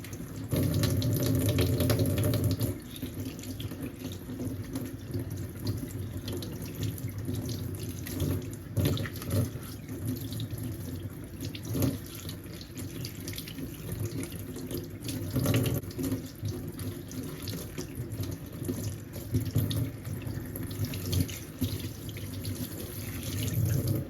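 Leeks being washed under a running kitchen tap, a steady loud stream of water splashing into a sink that continues throughout with no talking.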